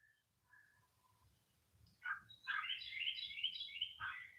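Birds chirping in a garden: a few soft, thin calls at first, then a louder burst of busy, overlapping twittering that carries on for a couple of seconds, close by, with no voices.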